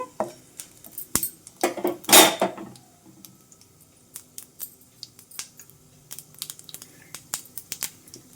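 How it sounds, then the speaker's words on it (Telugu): Tempering seeds fried in hot oil with cut dried red chillies for a ridge gourd curry, giving sharp scattered crackles and pops, a dense burst near the start, then sparser snaps, with no talking. "పోపు గింజలు చిట్టపట్లాడుతున్నాయి కదా"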